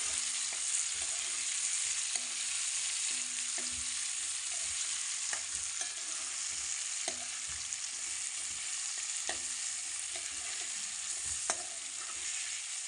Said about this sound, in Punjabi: ਹੁਣ ਆਪਾਂ ਪਾਉਣੇ ਆ ਟਮਾਟਰ ਜਿਹੜੇ ਆਪਾਂ ਟਮਾਟਰ ਕੱਟ ਕੇ ਰੱਖੇ ਤੇ ਇਹਨਾਂ ਨੂੰ ਵਿੱਚ ਪਾ ਲੈਣੇ ਇੱਕ ਦੋ ਮਿੰਟ ਲਈ ਇਹਨਾਂ ਨੂੰ ਫਰਾਈ ਕਰ ਲੈਣੇ